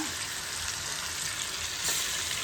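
Kalinga mural fish frying in hot oil, giving a steady, close hiss of sizzling that runs unbroken under the whole stretch with no talk.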